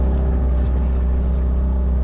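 An outboard motor on a Windboat 4.0 boat runs loud and steady at close range, a constant droning hum with no pauses during a fishing trip on shallow water.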